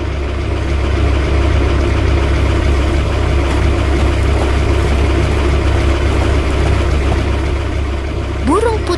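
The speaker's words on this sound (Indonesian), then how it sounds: "Traktor hijau berjalan dengan kecepatan yang santai" A green tractor engine runs steadily in an animation, a continuous low droning rumble with a voice talking over it.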